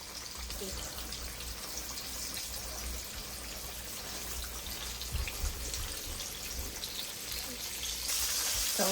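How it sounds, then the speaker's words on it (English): Stuffed chicken breast frying in a pan gives a steady, soft sizzle and crackle that runs the whole time, fairly quiet, with a brief louder hiss near the end. "I'm just going to give it a second to fry up on the bottom first, and then I'll flip it over"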